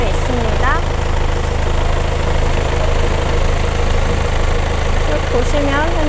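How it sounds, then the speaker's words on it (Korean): A used Kia All New Carnival 9-seat Hi-Limousine Prestige high-roof van idles with the engine bay open, giving a loud, constant, even hum and rumble throughout, with brief faint voices in the background. "엔진 소리 일정합니다."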